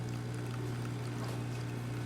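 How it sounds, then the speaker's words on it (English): A Gaggia Academia espresso machine brewing, with water flowing steadily from the spouts over a constant low pump hum, faint and continuous with no talk. "Good water flow coming from the spouts"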